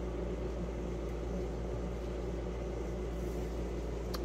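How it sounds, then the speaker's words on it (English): A home air conditioner runs in a kitchen, giving off a steady close low hum and even whooshing airflow that stays constant throughout, with no talk. "I got the air conditioner on."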